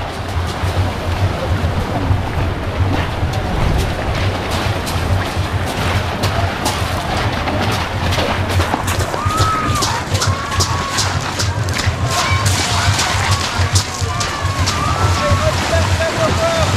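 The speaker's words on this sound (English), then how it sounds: "you have to go through the river, brook, stream, whatever you want to call it first." Runner wading through a river or brook during a trail race, with continuous loud splashing and sloshing water throughout, heavy steps churning the stream and some background voices.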